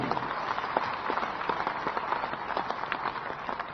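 An audience at a BJP state working committee meeting in Raipur claps, a dense, steady patter of many hands at middle distance, with no speech.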